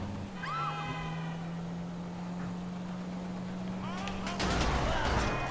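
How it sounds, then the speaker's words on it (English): Gunfire in Grand Theft Auto V, heard as sharp cracks and bursts toward the end over a steady low drone, with a sustained engine-like tone through most of the clip. "Stop freaking shooting me."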